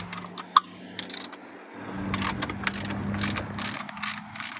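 Ratchet clicking while removing the lower unit bolts from a Yamaha 425 XTO outboard motor: bursts of close mechanical ratcheting clicks in repeated strokes, with a steady low hum underneath.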